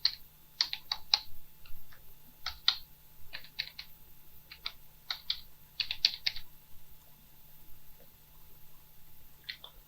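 Typing an estimate on a computer keyboard: faint, intermittent bursts of close keystroke clicks with pauses between, over a low steady hum.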